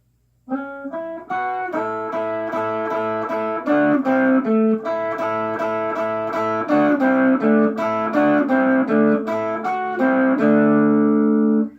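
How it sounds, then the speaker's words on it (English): A slow guitar riff in A pentatonic minor of plucked single notes and short repeated phrases, clean and close, ending on a held ringing note. "slow motion, the riff in a pentatonic minor sounds like this"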